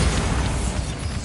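Continuous low, rumbling magical blast from the Bombarda spell in Hogwarts Legacy, played on PS5, filling the whole moment with dense, loud booming energy and no speech.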